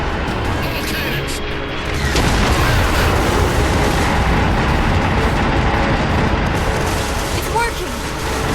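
Heavy cannon fire from a warship's batteries in the Halo 4 video game, a loud sustained roar of booming blasts that swells after the opening seconds and rumbles on densely, with voices and game audio mixed in.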